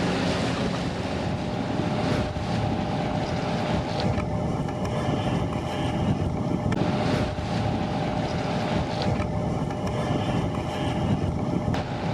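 Steady roar of 20 to 24 knot wind buffeting a sailing boat at sea off Sicily, with rushing water underneath, continuous and loud with no voices.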